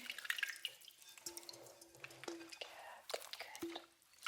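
Hands being rinsed in a basin of water during a hand scrub, with soft drips, splashes and gentle sloshing, quiet and close, broken by small taps and clinks.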